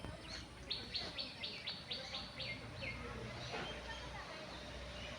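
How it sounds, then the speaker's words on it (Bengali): Birds chirp in a quick series of bright, repeated tweets, with fainter calls and insect buzz around them at the large bird habitat of Nahar Garden in Manikganj, over a steady outdoor background. "নাহার গার্ডেনে প্রবেশ করলেই হাতের বামে দেখতে পারবেন বিশাল একটি পাখির আবাসস্থল যেখানে প্রায় তিন হাজার প্রজাতির পাখি রয়েছে"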